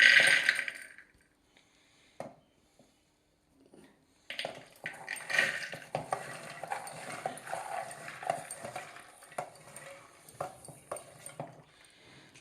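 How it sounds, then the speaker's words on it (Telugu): Soaked chickpeas are poured into a pressure cooker, a close, dense rattling patter of many small hard pieces landing on metal that runs for several seconds after a brief quiet pause. "ఇలా కుక్కర్ తీసుకుని కుక్కర్లో వేసుకోవాలండి శనగలన్నీ"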